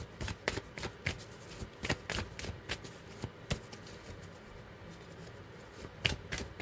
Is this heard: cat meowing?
no